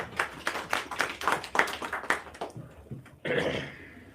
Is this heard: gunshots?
no